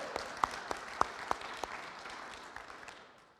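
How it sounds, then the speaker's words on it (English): Small church congregation at a Sunday gathering clapping, a few distinct sharp claps standing out over a soft, thinning patter of applause that fades away. "we can clap for them"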